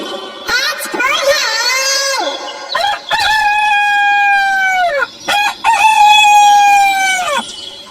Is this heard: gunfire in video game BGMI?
no